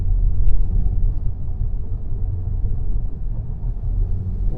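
A motorcycle climbs a winding mountain road, its engine a loud, steady low rumble with wind noise close by and no one talking.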